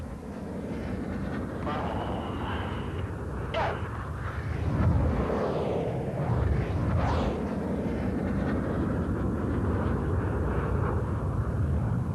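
Red Arrows display jets flying low at cliff-top height, a broad continuous roar with swelling passes as the aircraft cross, heard under a commentator's voice.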